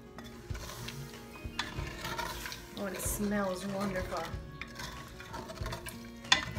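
A spoon scrapes and stirs repeatedly against a pan while deglazing chicken paprika stew over a soft sizzle, with clinks of metal and a person speaking briefly partway through.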